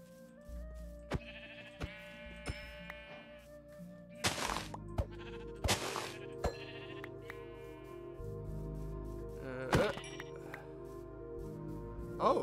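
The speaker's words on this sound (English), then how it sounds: "we're gonna look for some sheep, which I think I see some over here" Sheep bleating in the Minecraft video game, several short bleats rising above a light game soundscape with soft background tones and a few sharp clicks, moderately close and not overlapped by talk.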